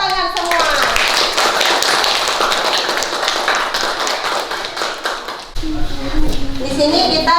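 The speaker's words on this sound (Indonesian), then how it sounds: "Tepuk tangan semua." Schoolchildren in a classroom clap together in a dense, steady burst that tapers off, with children's voices and a teacher talking over and after the applause.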